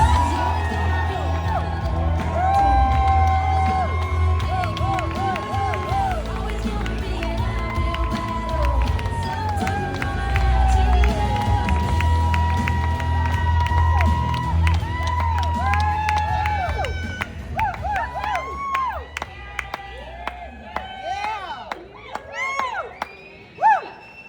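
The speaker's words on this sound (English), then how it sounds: "Keep your hands clapping right now" Large event crowd cheering, whooping and applauding loudly for a speaker introduction at a LifeVantage academy gathering, a sustained wash of noise over pulsing background music with shouts rising toward the end.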